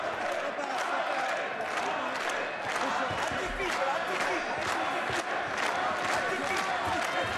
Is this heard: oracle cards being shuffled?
no